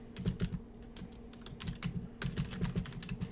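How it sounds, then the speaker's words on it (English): Rapid keystrokes on a computer keyboard, clicking in an irregular, steady patter close by, over a low constant hum, with no talking. "I guess you can't see what I'm typing."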